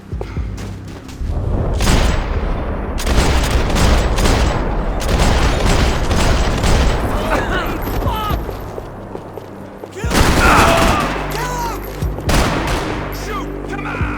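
Gunfire in the video game Max Payne 3: dense, loud bursts of shots and booming impacts rolling almost continuously, with a brief lull before another heavy volley, under shouting voices.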